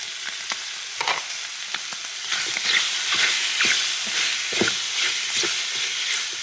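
Wild mushrooms with chili and herb leaves stir-fried in hot pork fat, a steady close sizzle and crackle of frying with scraping stirring strokes throughout, no voices.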